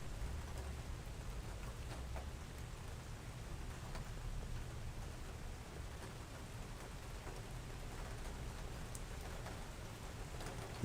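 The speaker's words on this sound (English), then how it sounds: "They're going to get the heavy rain now." Heavy rain falls steadily outdoors in a continuous broadband wash, with a faint low rumble that may be distant thunder; no voices.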